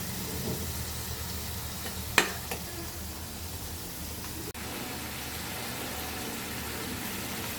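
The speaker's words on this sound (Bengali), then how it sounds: "এই যে তরকারিটা কষাইতে দিয়ে দিলাম" Hilsa fish and cucumber curry cooks in a pan with a low, steady sizzle and hiss, faint and even throughout, broken by one brief clink and a small tap, without any speech.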